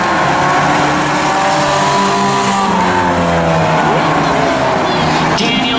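Race cars roar around an oval track at a Claimers race, several engines overlapping loudly with pitch sweeps as they pass, plus brief tire squeal, over continuous heavy engine noise.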